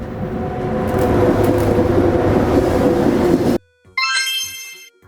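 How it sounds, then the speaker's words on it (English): A sleeper train rumbling and clattering loudly for a few seconds, then an abrupt cut to a short cheerful musical jingle. "A sleeper train has cozy beds for night travel."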